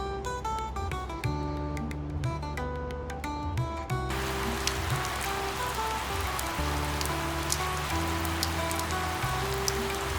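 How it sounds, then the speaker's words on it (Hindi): Heavy rain pours down steadily in Udaipur, Rajasthan, a dense, even hiss of drops striking surfaces nearby. A faint tonal melody plays underneath and drops out partway. "राजस्थान में आके भी इतनी बारिश देखने को मिल रही है"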